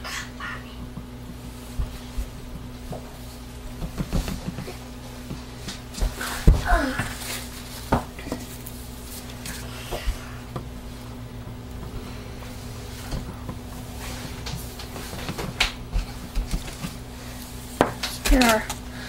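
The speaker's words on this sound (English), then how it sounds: "Giving these all a little stir." Utensils stirring soap mixtures in several containers while making sparkling mojito soap, producing scattered scrapes, clinks and knocks against the containers at close range, with faint background hum and occasional voices.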